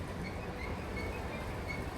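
A Delhi Metro train rumbles steadily with faint wheel squeal, a quiet continuous ride noise with no voices.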